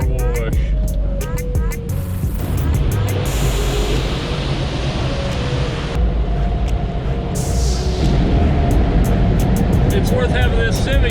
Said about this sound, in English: Going through the car wash.